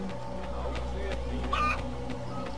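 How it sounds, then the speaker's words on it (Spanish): Chicken clucking in the video game Assassin's Creed Liberation, a brief squawky burst near the middle over a steady game soundscape with background music. "Vamos a perseguir a la gallina. Ven aquí, gallina."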